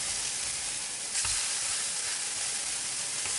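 Turkey cutlets sizzle in a ridged grill-style frying pan, a steady close hiss with a brief louder crackle as a cutlet is flipped and pressed down.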